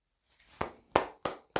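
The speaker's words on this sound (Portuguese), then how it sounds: "Palmas." A few separate hand claps from a small audience during a Portuguese-language talk, four sharp isolated claps spaced about a third of a second apart, moderately faint with no voices.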